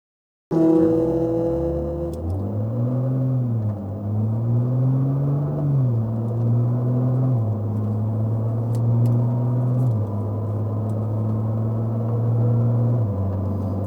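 Nissan GT-R lapping a race track, its engine droning steadily and loudly throughout, rising and falling in pitch as it accelerates and eases off between shifts, heard from inside the car with no talk.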